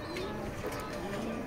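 Racing pigeons coo in a loft, low soft calls repeating faintly over a steady background murmur, with a voice or two present.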